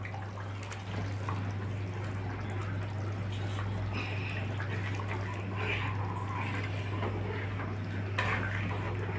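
Fried eggs going into a boiling spicy egg gravy, the liquid bubbling and gurgling steadily at close range over a constant low hum, with a few soft clinks of a spoon or pan.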